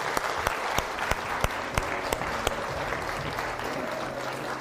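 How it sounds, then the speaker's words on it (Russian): Audience applause at a live interview event, a dense steady wash of many hands clapping with a few louder individual claps standing out at a regular beat, continuing throughout at moderate volume. "Веду и под ваши аплодисменты, друзья"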